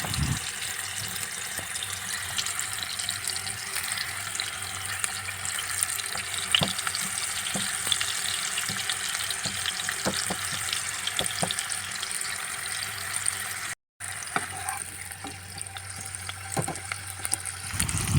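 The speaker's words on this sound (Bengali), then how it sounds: "এবার দেখুন চামচের সাহায্যে এইভাবে তেলগুলো না একটু ভিতরের দিকে আস্তে আস্তে দিয়ে দেবেন তাহলে ভিতরে তেলটা ঢুকবে ভাজাটাও ভালো হবে" Stuffed ridge gourd frying in oil, with oil spooned over it, sizzles in a steady, even hiss. Occasional light clicks of the spoon come through, and there is one brief break.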